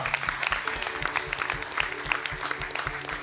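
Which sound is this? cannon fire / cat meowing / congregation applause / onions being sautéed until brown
congregation applause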